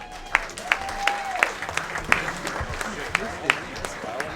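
A banquet audience at a racing awards dinner applauds a season champion, moderate scattered clapping with a few sharp louder claps standing out, fairly close, continuing steadily.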